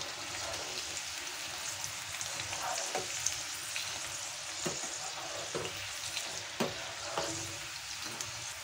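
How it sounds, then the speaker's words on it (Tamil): Corn kernels deep frying in hot oil over a medium flame, a steady dense sizzle and bubbling throughout with occasional sharper pops and crackles, no voices. "இப்போ இதை நம்ம கலந்து வச்சுருக்கக்கூடிய கானை கொஞ்சம் கொஞ்சமாக சேர்த்து பொரிச்சு எடுத்துக்கோங்க."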